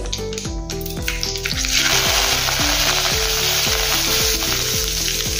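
Hot oil crackles and sizzles loudly as curry leaves hit the pan, the hiss swelling into a steady fry over rhythmic background music.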